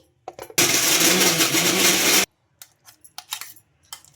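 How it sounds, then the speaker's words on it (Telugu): Mixer grinder coarsely grinding whole lemons with their peel, a loud close burst of harsh whirring that runs for under two seconds and stops abruptly, surrounded by light clinks and knocks. "వీటిని తొక్కు తీయకుండా తొక్కుతోనే గ్రైండ్ చేసుకుంటున్నానండి"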